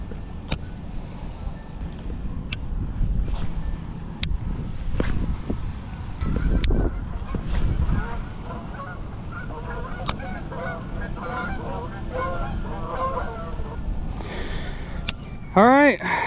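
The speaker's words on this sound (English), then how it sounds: "There's a million ducks here." Many ducks call on a pond edged with reeds, a loose chorus of quacks and honks rising through the middle and end over steady outdoor background, with a sharper call near the finish.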